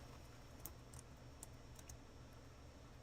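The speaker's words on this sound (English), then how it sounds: "But since I'm on the computer, I'm typing it." Soft, sparse keystrokes on a computer keyboard, a few faint isolated clicks spaced irregularly over a quiet background hum.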